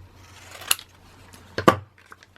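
Two sharp scissor snips trimming a paper card panel for a birthday card, close and crisp, separated by about a second of quiet with a low hum beneath.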